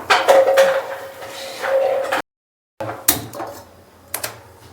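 Roasted cashews and almonds being scooped from a ghee pan into a dish for a date roll, with close metallic scraping and clinks of a spoon on the pan, a short pause, then a few sharper knocks.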